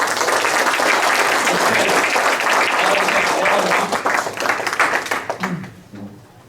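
An audience claps loudly and steadily for panelists at a political campaign event, the applause dense and sustained before thinning out and fading over the final seconds.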